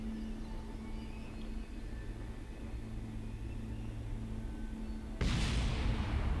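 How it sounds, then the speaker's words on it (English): A sudden explosion in Kerbal Space Program bursts out after several seconds of quiet steady hum, a loud, broad blast that lingers to the end. "Kerbals just love their explosions."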